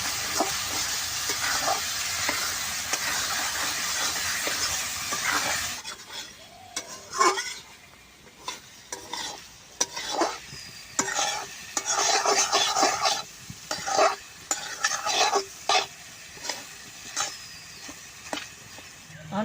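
Capsicum and masala stirred in a hot pan for paneer masala give a sizzling, scraping hiss, loud at first and then broken into repeated spoon scrapes and clanks against the pan.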